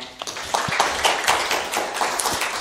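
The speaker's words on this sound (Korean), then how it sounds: "역시나 박수로 모셔보도록 하겠습니다" An audience at an investment strategy lecture claps to welcome a speaker, a brief spread of scattered hand claps filling the room at moderate loudness with no voices over it.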